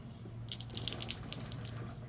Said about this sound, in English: I'll have to put a little more water in the pan.